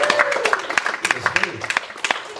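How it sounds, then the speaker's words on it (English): A small audience at a festival session claps with distinct, separate hand claps in an uneven rhythm, mixed with voices and crowd chatter. "A round of applause for 32 years."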